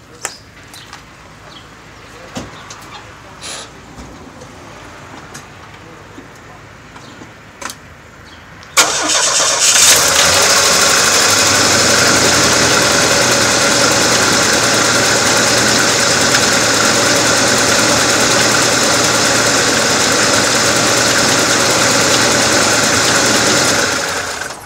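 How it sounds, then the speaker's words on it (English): A Chevy S10 engine cranks and catches after a quiet stretch, then settles into a loud, steady idle that runs uninterrupted to the end. "We'll start it up just long enough to let it cycle all the oil through the engine"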